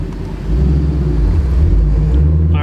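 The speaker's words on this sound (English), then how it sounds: "I'm gonna let the car warm up a little bit before we start ripping it." A Ford Mustang GT engine warming up before a drive, a deep steady rumble that swells slightly after the first half second and holds close and loud throughout.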